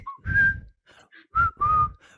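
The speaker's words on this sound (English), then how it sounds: "every guy at school is walking around whistling the Colonel Bogey March" A person whistles a few phrases of the Colonel Bogey March, with clear sustained notes and short gaps, close and fairly quiet.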